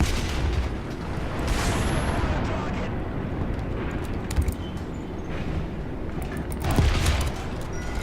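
Tank cannon fire and battle noise in the video game War Thunder, a dense, continuous rumble with sharp booming blasts rising out of it, loud and close, in a ground-forces match against a French tank.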